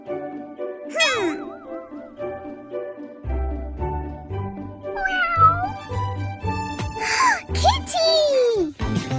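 A cartoon cat meows several times in a children's animated adventure, its wavering, bending cries loud and close over background music and effects, with a voice and other speech mixed in.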